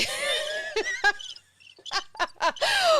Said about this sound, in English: so you don't get crickets